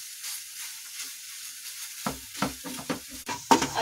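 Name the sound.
khoya being roasted and stirred in a pan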